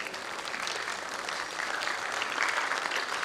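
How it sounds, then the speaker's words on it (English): An audience at a school event claps steadily, a dense broadband patter of many hands that holds at a moderate level throughout, with no voices over it. "The clap seems to be fading away."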